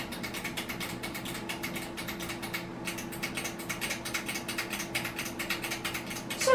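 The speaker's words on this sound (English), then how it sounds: "And also just the clicky switchy buttons." Clicky switch buttons on an NAD hi-fi amplifier are pressed repeatedly while being cleaned, giving a quiet, rapid run of small close-up clicks over a low steady hum.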